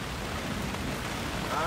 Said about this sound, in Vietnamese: Xin thông báo với toàn thể quý khán giả là hiện tại mưa